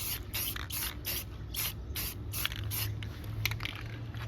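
Short repeated bursts of aerosol primer spraying onto chrome trim of a 2020 Nissan Rogue, a steady hiss pulsing on and off in quick rhythmic passes, close and fairly soft.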